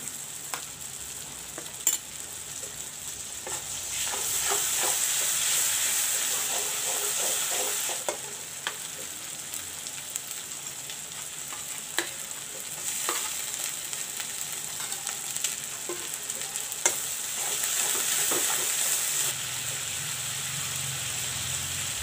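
Masala paste of garlic, mustard, jeera and chili frying in a pan for a fish and potato curry, a steady soft sizzle with occasional stirring clicks, fairly quiet throughout.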